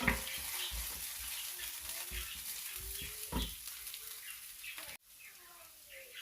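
Garlic sautéing with onion in a pan for homemade squid adobo, a steady soft sizzle with occasional stirring scrapes, fairly quiet and close, with faint chirps in the background.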